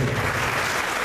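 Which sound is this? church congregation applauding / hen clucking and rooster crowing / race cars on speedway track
church congregation applauding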